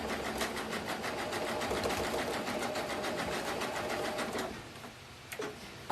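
A sewing machine stitches around the edge of a clothesline coaster, its rapid, even needle chatter running steadily for several seconds before slowing and stopping near the end.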